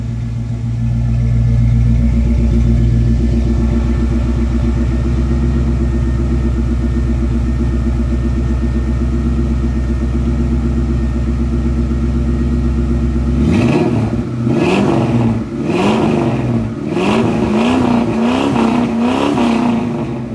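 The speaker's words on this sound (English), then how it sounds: "Real nice tone from the dual exhaust." A restored 1971 Ford Bronco's deep, loud V8 engine idles steadily with a throaty rumble, then revs sharply several times in quick bursts through a rumbling dual exhaust.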